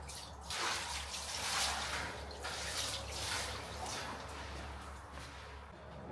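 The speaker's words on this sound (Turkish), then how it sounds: "Akıyor mübarek, akıyor." Water rushing and gurgling down a bathroom drain, a continuous hissing wash over a low steady hum, fairly close and unbroken, with no talk.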